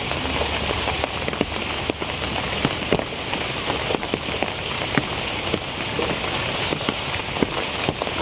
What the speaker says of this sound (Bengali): যেদিন মনে হইব বৃষ্টি হইতো না এই দিনই বৃষ্টি হইব